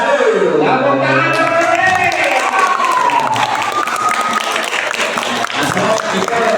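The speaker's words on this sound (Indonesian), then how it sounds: "tepuk tangan" An audience at a Ramadan quiz competition breaks into loud, sustained clapping and cheering, with shouting voices mixed through the applause for several seconds.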